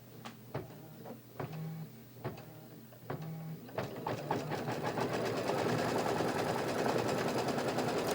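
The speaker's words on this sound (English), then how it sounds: "It's going to do the placement stitch for my large blue flower." An embroidery sewing machine stitches a placement outline in blue thread for a flower on a quilt block. It starts with spaced mechanical clunks, then runs into a fast, steady, close stitching rattle.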